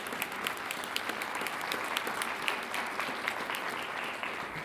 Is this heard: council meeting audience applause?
yes